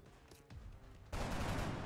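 Gunfire in the video game X-Com Enemy Within with the Long War mod: faint thuds build into a sudden burst of rapid, noisy shots that keeps going to the end.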